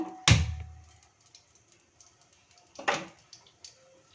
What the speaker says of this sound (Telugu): స్టవ్ వెలిగిస్తున్నాను.